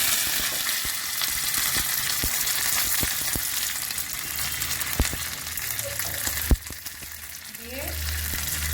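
Green chillies, mustard seeds and curry leaves frying in white oil for a dhokla tempering, a loud steady sizzle peppered with sharp popping crackles, followed near the end by a gushing pour into the pan.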